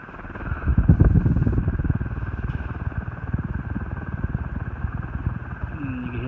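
A Hunter R-36 36-inch ceiling fan runs at speed, giving a steady mechanical hum with a fine, even ticking rhythm from its motor and bearings, loud and close throughout with no speech.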